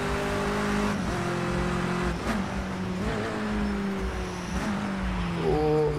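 Touring car engine in Project Cars 2 on a wet Bull Ring track, droning steadily with gear changes and throttle lifts, pitch stepping up and down across several shifts, loud and continuous.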